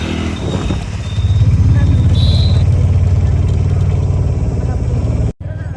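An auto rickshaw engine rumbles steadily from inside the ride, a loud, close, low-pitched drone with a brief rev and a sharp cut near the end, under faint talking.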